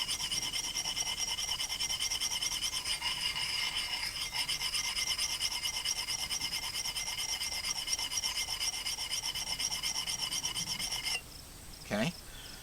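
A steel file rasps steadily along an axe edge in repeated close, even strokes, a continuous scraping that ends with a short clatter.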